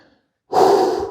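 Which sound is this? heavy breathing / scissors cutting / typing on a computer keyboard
heavy breathing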